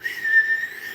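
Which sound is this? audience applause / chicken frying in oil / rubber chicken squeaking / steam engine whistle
steam engine whistle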